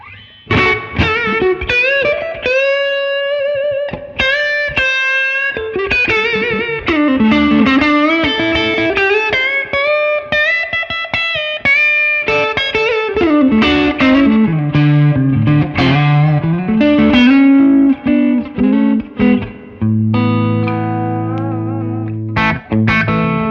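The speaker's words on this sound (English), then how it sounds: "Let's try my reverb trick for the neck pickup." Fender American Professional Classic electric guitar on the neck pickup, played through reverb with a distorted, effected tone: a continuous run of melodic notes and chords with lush tails, ending on sustained low chords.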